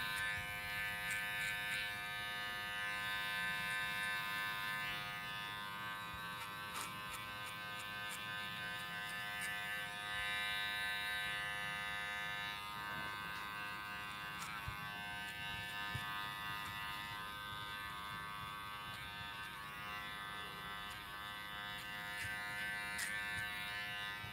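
An electric hair clipper fitted with a number 4 guard cuts a boy's hair, giving a continuous, close, high-pitched buzz that holds steady throughout, with slight changes as it moves through the hair.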